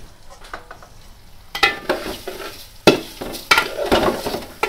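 Washed Gobindobhog rice fried and stirred in a pan for mutton biryani, with a quiet sizzle and sharp scraping strokes of a spoon that come in bursts and grow louder partway through, with no talking.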